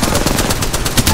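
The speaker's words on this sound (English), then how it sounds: "The enemies are shooting at me." Rapid automatic gunfire from enemy players in the battle royale video game Apex Legends, a dense continuous burst of shots filling the whole moment at close range, loud and steady with faint speech underneath.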